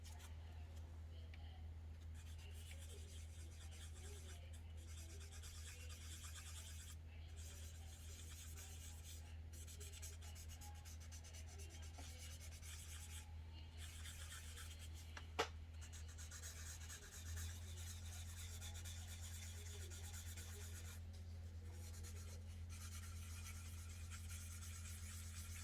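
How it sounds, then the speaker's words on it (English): Steady hand-rubbing and buffing on the painted body of a Pontiac Fiero, a soft continuous scrubbing over a low constant hum, with one brief sharp tap partway through. "Buffing out the surface."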